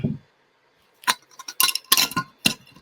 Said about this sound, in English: So this is where I'm actually putting the herb inside the glass insert.